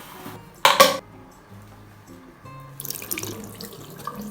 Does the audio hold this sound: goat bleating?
no